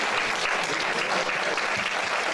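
Dense, steady applause from an audience at a Spanish-language community honoring event in New Jersey, a continuous wash of many hands clapping at full volume with no voices standing out.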